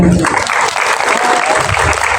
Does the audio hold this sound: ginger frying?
no